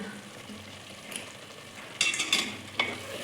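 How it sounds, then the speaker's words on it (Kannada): Pepper chicken with coriander and mint is stirred in a pan over low flame, a soft sizzle under a few brisk scraping strokes of the spoon, close and fairly quiet. "ನೀಟಾಗಿ ಮಿಕ್ಸ್ ಮಾಡ್ಕೋಬೇಕು ಒಂದು ಟೂ ಮಿನಿಟ್ಸ್ ಬಿಡಿ ಲೋ ಫ್ಲೇಮಲ್ಲಿ ಇಟ್ಟು"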